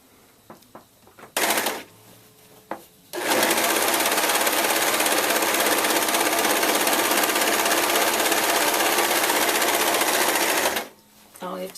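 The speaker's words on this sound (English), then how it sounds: "So I'm going to serge the side and the bottom" A serger overlock machine runs loud and continuous for about eight seconds, finishing the side and bottom seams of a pillowcase, after a short burst and a pause at the start.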